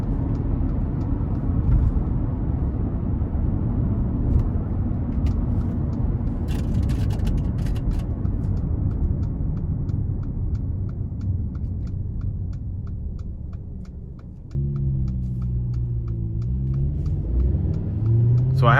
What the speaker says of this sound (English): So really good pull from this turbocharged engine.